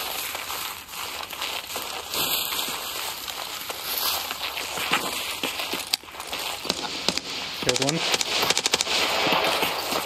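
Scattered gunfire in a video game, some of it distant and some nearer, crackles in short bursts beneath a voice that talks throughout, growing denser toward the end.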